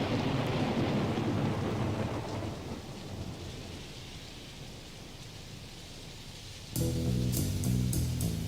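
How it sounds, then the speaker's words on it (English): Thunderstorm with steady heavy rain and rolling thunder from a song, a dense wash of rain that eases slightly before bright musical notes join in near the end. "And then the thunderstorm, the lightning and everything."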